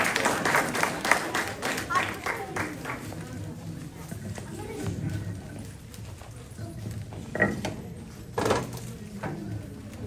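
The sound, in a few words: audience applause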